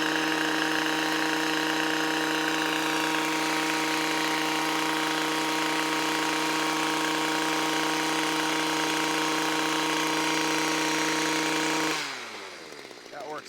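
A Stihl MM55 small tiller fitted with bolo tines churns down into soil and grass, its engine droning loud and steady for about twelve seconds before it eases off sharply.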